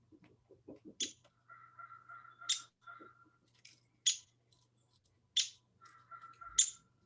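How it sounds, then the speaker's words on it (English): Recorded downy woodpecker calls: a series of sharp, high pick notes at regular intervals, with a faster whinnying rattle running between them, fairly faint over a low steady hum and no talking. "And then this is going to be the downy woodpecker."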